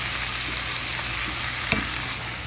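Shrimp frying in garlic butter in a pan, a steady close sizzle with the soft scrape of a stirring utensil and one brief clink, no voices.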